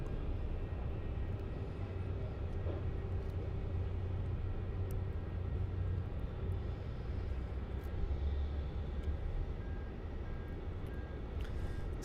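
Airbus A321neo taxiing toward the gate at Melbourne Airport: a steady, distant low rumble and engine hum that holds level throughout, with no talk.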